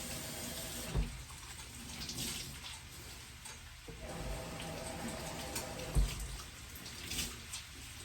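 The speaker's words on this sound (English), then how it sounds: "give the cutting board a quick wash" Tap water runs steadily into a kitchen sink while a cutting board is washed, with splashing bursts and knocks as the board moves under the stream, close and moderately quiet.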